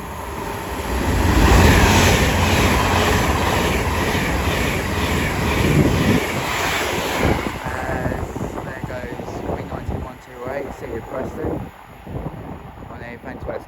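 A West Coast Main Line train runs through Watford Junction with a loud, close rumble that peaks early and then eases. Rhythmic wheel clatter carries on as the noise fades, and a voice talks during the later part.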